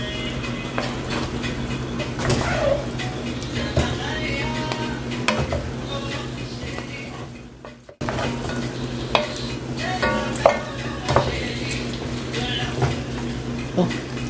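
Eru greens and seasonings being stirred in a cooking pot, with repeated close scraping and clattering of a utensil against the metal over a low sizzle, briefly dropping out midway before resuming.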